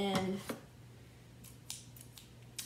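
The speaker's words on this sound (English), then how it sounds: "we have some scissors." A pair of scissors snips a few times at plushie packaging, faint and close, with light cuts spaced irregularly after a brief voice at the start.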